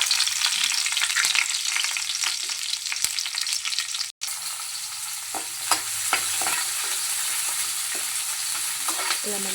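Onions frying in hot oil with cumin until golden for mushroom fried rice: a loud, continuous sizzle with a few stirring scrapes and one brief dropout partway through.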